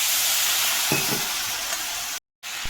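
Spices such as cumin and coriander powder being sautéed in a pan, a continuous loud hissing sizzle with a couple of brief stirring scrapes, cutting out abruptly near the end before resuming.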